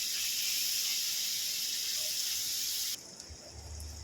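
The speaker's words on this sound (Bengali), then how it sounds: "ভেজে নেবে একটু রসুনের গন্ধটা যাওয়া পর্যন্ত ভেজে নেবে" Garlic paste frying in hot oil for a chaltar achar pickle, a steady loud hiss and sizzle that drops off sharply near the end, followed by faint low clatter.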